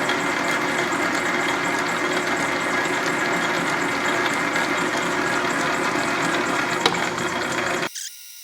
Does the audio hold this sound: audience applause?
no